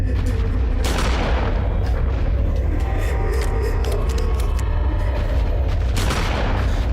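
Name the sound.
gunshot from the video game Eternal Darkness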